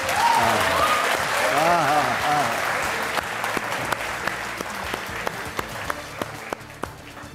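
A studio audience at a Tamil courtroom-style talk show claps, a dense burst of applause that thins into scattered individual claps, with a host's voice heard near the start.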